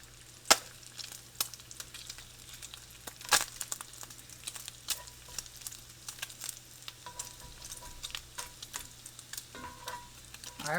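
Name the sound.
crepe cooking in a hot cast iron pan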